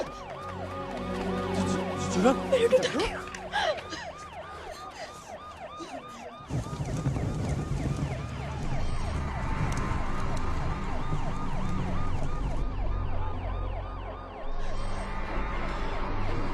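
A loud, wailing ambulance siren sweeps up and down continuously, with a second siren tone joining partway through amid traffic noise, as the ambulance sits stalled.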